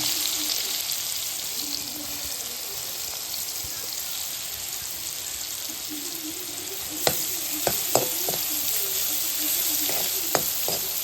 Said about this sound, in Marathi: आता ह्याच्यात टाकणार आपण हिंग मग तो बारीक चिरलेला कांदा आहे तो आता अशात टाकायचा